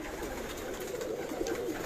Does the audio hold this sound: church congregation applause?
no